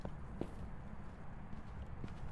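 Ghost footsteps in the video game Phasmophobia sound as a few faint, low, muffled thuds spaced irregularly over a quiet, rumbling background.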